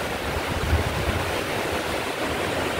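A river in Taiwan rushes with steady, broadband flowing water noise, close and fairly loud, continuous without voices.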